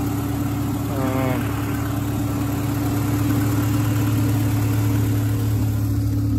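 A 2000 Honda Civic DX engine idling steadily nearby, a constant low hum with a brief faint rise early on.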